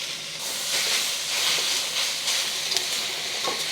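Beef with ginger and garlic sizzles as it is stirred in a hot pan, a steady loud steamy hiss with faint scraping, close up.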